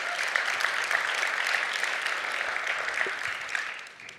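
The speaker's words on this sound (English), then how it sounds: "I feel like we applaud her for that" A congregation applauds during a Sunday sermon: steady, moderately close clapping from a mid-sized crowd that holds evenly for about four seconds, then tapers off at the end.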